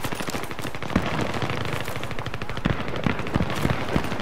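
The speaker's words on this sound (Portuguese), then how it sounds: "tem gente atirando aqui" Automatic gunfire in the video game Battlefield 3, rapid bursts of shots rattling over a dense, noisy battle backdrop, with a few louder individual reports standing out.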